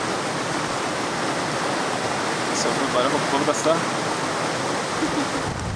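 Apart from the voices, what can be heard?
rushing mountain river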